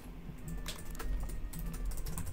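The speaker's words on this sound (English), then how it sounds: "Kitty's typing in the back furiously" Rapid, uneven computer keyboard typing clatters in bursts of sharp key clicks, moderately close and fairly loud over a low background hum, with no talking.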